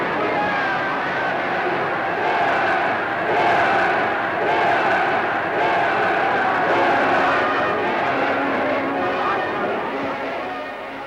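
A massed crowd roars and cheers continuously in 1950s Hungarian archival footage, a dense, steady wall of voices that swells and fades slightly toward the end.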